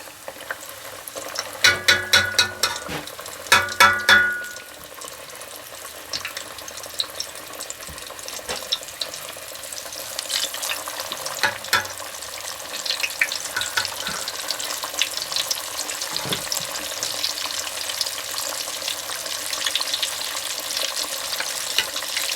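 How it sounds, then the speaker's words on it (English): Breaded country fried steaks fry in a pan of hot oil, a continuous crackling sizzle close up, with a few bursts of clattering early on and bubbling spits throughout. "Now we're going to cook them for 3 to 4 minutes on each side until they're golden brown."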